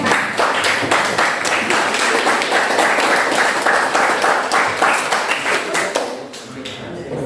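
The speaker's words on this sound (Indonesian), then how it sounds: "silakan berikan tepuk tangan kepada kelompok PZAM" Applause for a student group's presentation during a classroom teaching practice session at a high school, a steady dense clapping crowd that holds throughout, then thins and fades toward the end.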